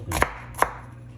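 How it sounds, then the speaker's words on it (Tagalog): A knife slices through an onion with two crisp, close strokes against a board, spaced a short moment apart, in an otherwise quiet kitchen. "hiwa muna tayo ng sibuyas mga bikers na"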